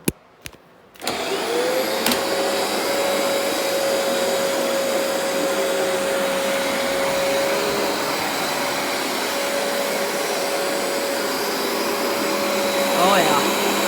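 A vacuum cleaner runs on carpet indoors after a couple of sharp clicks at switch-on. It settles into a loud, steady whine and whoosh that continues evenly to the end.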